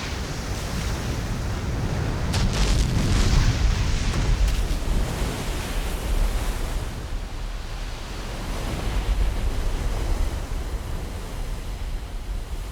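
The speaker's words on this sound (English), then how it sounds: "Ocean waves driven outward from fierce storm centers often travel for a week or more until they explode against the land" Storm-driven ocean waves exploding against the shore, a broad roaring wash that swells and recedes in heavy, continuous surges with wind-like hiss.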